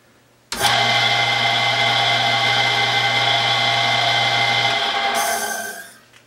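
An electric motor drives an old bandsaw, some 110 years old, starting abruptly into a loud, steady whine with a constant low hum, running evenly for several seconds before winding down near the end.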